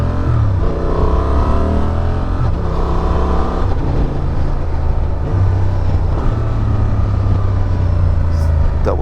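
Honda XL750R Transalp motorcycle with a 270-degree crank, its twin-cylinder engine droning and revving steadily as the bike rides, with a rider talking over it.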